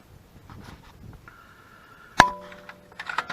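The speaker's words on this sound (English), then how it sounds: "Take the rest of the bolts off." Bolts being removed from the rear remote hydraulic valve plate of a New Holland 1630 tractor: one sharp, close metallic clang with a ringing tail, amid faint ticking and small knocks.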